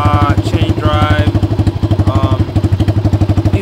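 A 1997 Kawasaki Mojave 250 liquid-cooled four-stroke quad with its muffler ripped off runs loud and close, a rapid throbbing exhaust pulse throughout, with someone speaking over it.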